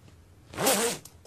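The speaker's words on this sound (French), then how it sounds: "Une fermeture éclair." A single quick zipper pull, a close raspy zip rising and falling in under half a second.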